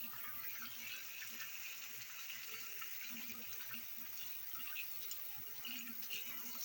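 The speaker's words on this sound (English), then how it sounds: "give my hands a wash" Running tap water splashes steadily as hands are washed in a kitchen sink while cooking Jamaican cow foot with rice and peas, a faint, continuous gush with no talking.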